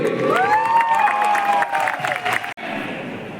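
A motivational success-story event audience bursts into loud, sustained applause and cheering, with tonal music-like sounds mixed in, before cutting off abruptly near the end.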